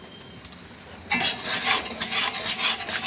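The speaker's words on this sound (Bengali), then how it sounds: "আর একটু নাড়াচাড়া করতেই হবে নাড়তেই হবে" Raw mango pulp with sugar and salt being stirred in a pan with a spoon, a steady close scraping and rubbing that starts abruptly after a quiet second and continues in uneven strokes.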